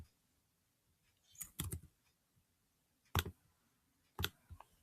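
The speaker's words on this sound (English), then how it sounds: "I'm trying to type it." Keyboard typing in a few short bursts of clicks separated by quiet gaps, fairly faint and close, with no voices.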